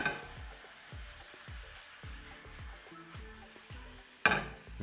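A vegan omelette sizzles steadily in a frying pan, with repeated low scraping or stirring strokes roughly every half second and a brief louder clatter near the end; no one speaks.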